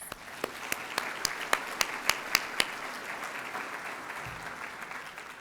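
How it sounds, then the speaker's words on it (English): Applause from an audience at the Oro Valley State of the Town 2023 event, with a run of sharp individual claps near the front over a steady wash of crowd clapping that fades after a few seconds. "Can we give them a round of applause, please?"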